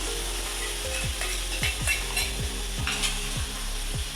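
Tomato paste hits a sizzling pan for a mushroom curry and is stirred, a constant fry hiss broken by rhythmic spoon scrapes and clinks against the metal, close up and without speech.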